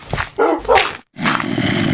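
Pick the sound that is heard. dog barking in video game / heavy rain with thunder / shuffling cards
dog barking in video game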